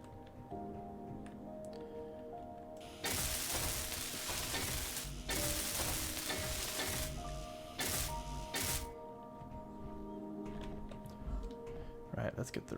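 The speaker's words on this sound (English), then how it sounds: "Let's weld up the rest of this here first." Sustained sizzling, crackling hiss of a welding tool in the video game Space Engineers during hardcore survival play, loud bursts from about three to nine seconds over a steady background hum, with a voice talking alongside.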